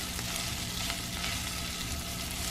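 Onions for burgers, seasoned with salt and pepper, frying in a pan while being stirred: a dense, continuous close sizzle with a steady hiss and no pauses.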